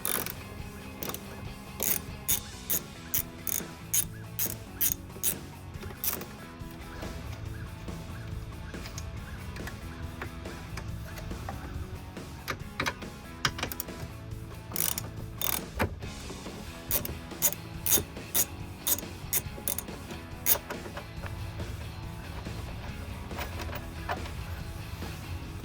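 Ratchet on a 10mm socket backing out mirror bolts on a 2014-2018 Chevrolet Silverado door, uneven bursts of quick clicks with pauses between runs, close-up over a dim background hum.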